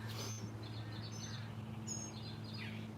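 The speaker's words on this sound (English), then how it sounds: "it is absolutely spectacular to get to enjoy my garden with all the birds singing" Garden birdsong: several quiet, repeated chirps and warbling phrases from small birds, fairly distant, over a low steady hum in the background.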